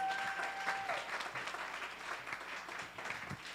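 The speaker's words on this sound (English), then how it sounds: "Let's keep the round of applause for Mr." An audience at a Voices of Freedom community event applauds a speaker, with sustained moderately distant clapping and a faint tone near the start, easing slightly toward the end.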